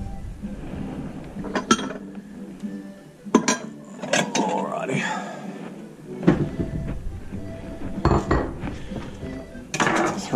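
A ladle serves lentil soup from a pot, with several sharp metallic clinks and knocks against the pot and dishes at uneven intervals and soft scraping between them.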